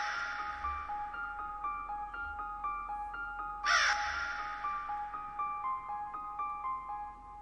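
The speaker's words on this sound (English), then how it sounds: "I like them crow sounds he added to it also." A crow caws over a song as an added sound effect, with a few harsh calls sitting on top of sustained synth tones and a faint low beat, moderately loud and without voices.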